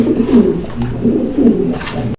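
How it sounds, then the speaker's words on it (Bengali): Black racing pigeons coo at a pigeon farm, several soft, low rolling coos in close succession, near and clear with faint background rustle. "এটা হচ্ছে আপনার ব্ল্যাক কালারের রেসিং পিজন"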